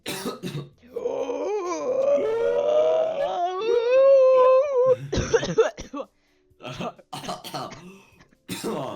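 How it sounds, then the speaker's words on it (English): A drawn-out, wavering vocal strain during a slow, deep breath gives way to a few harsh coughs and throat clearing, with bits of talk between them. "I actually start coughing when I do that"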